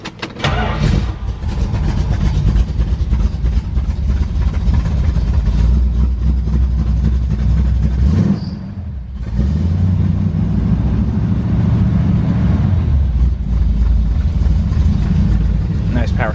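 A 1972 Dodge Challenger starts up and settles into a loud, deep, rumbling idle nearby, with a brief dip partway through before the steady idle resumes.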